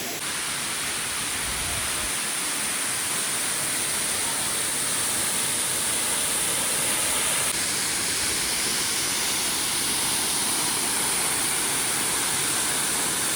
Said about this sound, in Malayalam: നല്ല അതിമനോഹരമായിട്ടുള്ള വെള്ളച്ചാട്ടമാണ് കേട്ടോ